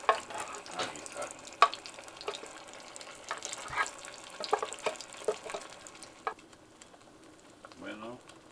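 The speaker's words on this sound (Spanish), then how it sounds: "aquí lo estamos guisando el chile y ya le agregamos ahí la ramita de pasote" Chile stewing in oil in a clay cazuela with a sprig of epazote added, giving a soft, crackling sizzle with scattered light pops and occasional stirring, then quieting near the end.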